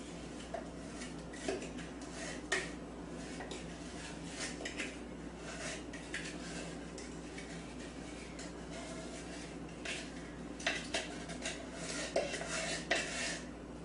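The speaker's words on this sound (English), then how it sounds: "you take a bowl and you mix the cinnamon and brown sugar" A spoon stirs cinnamon and brown sugar together in a bowl, producing soft scraping and occasional clinks against the bowl, close but quiet with no talk.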